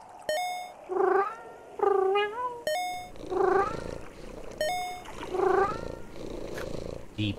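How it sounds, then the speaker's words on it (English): A cartoonish cat from the PC game Mushroom Cats gives repeated wavering meows and purring calls, loud and close, in several rhythmic bursts punctuated by sharp chime-like tones. "Oh, that was apparently a cat."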